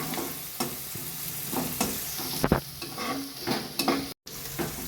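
Garlic paste frying with softened onions in a pan, giving a steady close sizzle broken by repeated scraping stirs and a brief dropout near the end, with no voices.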